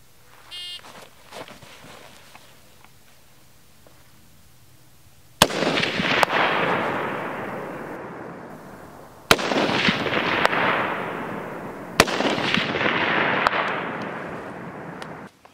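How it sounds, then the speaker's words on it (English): Three loud rifle shots ring out several seconds apart during a timed drill on steel targets at 200 to 400 yards, each crack followed by a long rolling echo, with faint metallic pings of hits after. "So it should take me no longer than 12 seconds to hit one piece of steel at 200,"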